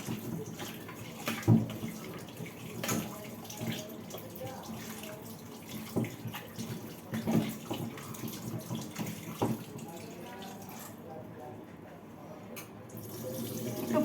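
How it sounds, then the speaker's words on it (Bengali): Raw chicken being rinsed under a running kitchen tap, a steady rush of water broken by irregular splashes and knocks as the meat is turned in the sink. "আর এই চিকেনটা এবার ধুয়ে নিই। দাঁড়াও, চিকেনটা ধুয়ে নিই।"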